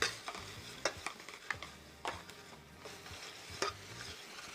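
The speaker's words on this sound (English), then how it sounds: "go ahead and put these green onions in there" Green onions stirred into a salmon croquette mixture in a bowl, a steady run of soft, wet scraping and mashing with sharper clicks of the utensil, close and fairly quiet.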